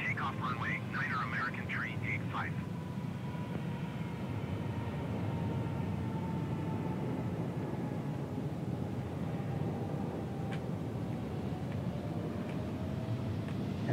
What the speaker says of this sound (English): American 787-9 coming in. Looks like it's coming in hot.